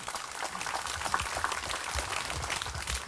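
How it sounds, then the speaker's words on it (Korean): A symposium audience at a Catholic shrine applauds a priest being welcomed to give commentary. The clapping is steady and moderately distant, with faint voices mixed in. "박수로 맞으시기 바랍니다."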